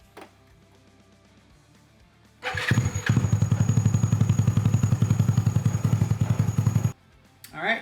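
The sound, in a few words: Honda Ruckus scooter GY6 engine with Reveno dry clutch starting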